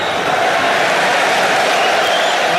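A large stadium crowd at the 2023 Rugby World Cup match between Wales and Fiji roars in a sustained, dense wash of cheering that holds steady without a break.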